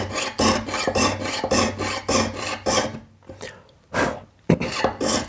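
Piercing saw blade cutting a straight line through sheet metal for jewellery, heard as a steady run of rapid rasping strokes, close and loud, that pause briefly and then resume for a few last cuts.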